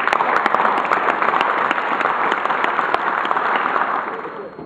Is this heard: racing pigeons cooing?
no